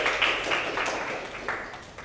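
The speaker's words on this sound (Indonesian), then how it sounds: "Tepuk tangan dong" An audience claps together during a talk, a dense, steady patter of many hands that stays fairly even across the whole stretch, fading slightly toward the end with no voices over it.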